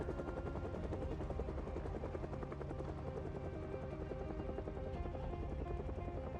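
Helicopter flying overhead during a helicopter event in Project Zomboid, a steady loud rotor thrum with constant chopping pulses filling the whole stretch, no talk.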